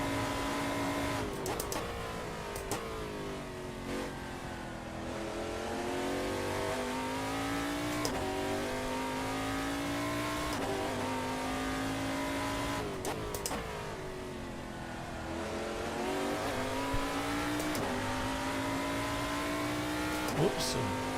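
A race car engine in an online racing sim revs loudly and continuously, rising and falling through gear changes with sharp shift cuts, close and constant for the whole stretch.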